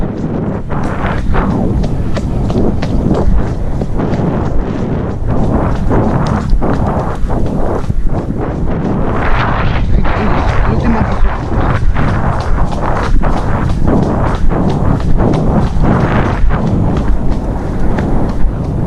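Horse hooves clip-clop on a trail ride near Barcelona, a steady rhythmic series of close, sharp hoof strikes continuing throughout without talk.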